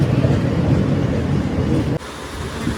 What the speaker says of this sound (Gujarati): આવી ગઈ હો ટ્રેન જો